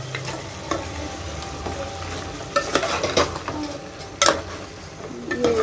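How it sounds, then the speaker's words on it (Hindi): Tomatoes fry for a Hyderabadi mutton curry, giving a continuous soft sizzle broken by occasional scraping clatters of a spoon stirring the pan. "टमाटर भी अच्छा भुने जाना है इसके अंदर।"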